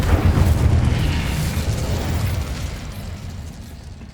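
Spell explosions in the video game Hogwarts Legacy, a heavy booming blast at the start that rolls into a fading, crackling rumble over a few seconds.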